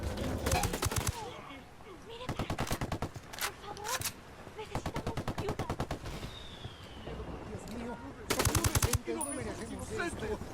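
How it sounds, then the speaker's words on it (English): Automatic gunfire in the video game Ghost Recon Wildlands comes in several loud bursts of rapid shots separated by short pauses, with a player's voice talking in between. "Opening fire."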